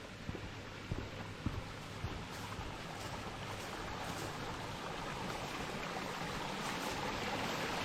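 A small, fast-flowing forest stream of clear, cold water rushes in a steady, quiet wash, with faint close-by knocks early on and the flow holding constant throughout, no voices.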